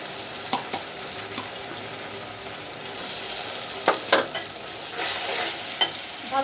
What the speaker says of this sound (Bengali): আদা রসুন পেঁয়াজ বাটাগুলো একটু কষিয়ে নিব যেন কাঁচা গন্ধটা চলে যায়